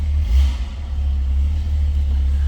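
A 1967 Pontiac Firebird convertible engine idles steadily just after a cold start, a deep continuous rumble with a slight swell early on, close and alone without speech.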